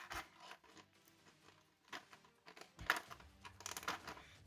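Adhesive tape peeled and picked off the packaging of an Iron Man MKII figurine: close, faint scratchy rips and rustles in irregular bursts, with louder tearing near the end and no talking.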